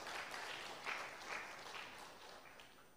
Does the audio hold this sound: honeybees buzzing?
no